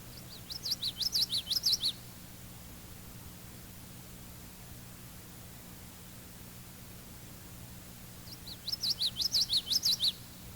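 A common yellowthroat sings its rolling witchity-witchity song twice, each phrase a quick run of bright, clear notes about two seconds long, separated by a long stretch of steady background hiss.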